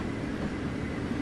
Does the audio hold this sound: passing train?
yes